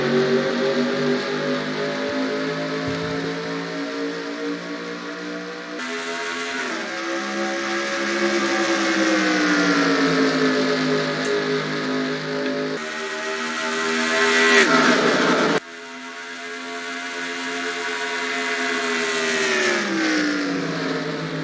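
Stock cars racing at Kansas in NASCAR Racing 2003: a steady, loud, droning engine roar that rises and falls with throttle and gear changes, with pitch sweeps as cars pass, continuous throughout.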